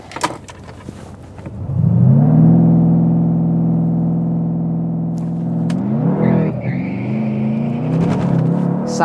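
A Mercedes-AMG C 63 S launches hard in Comfort mode, its engine rising from a low idle to a loud, steady roar that holds for several seconds, then drops and builds again near the end.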